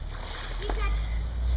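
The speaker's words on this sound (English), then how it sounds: "So jump like this, Tommy, and then as soon as you are in the water, go like this" A boy jumps into a backyard swimming pool, and a single quick water splash sounds close by over steady background noise while someone speaks.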